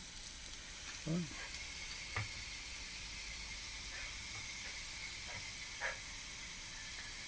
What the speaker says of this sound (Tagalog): Pwedeng gisatan na ang onion, kag garlic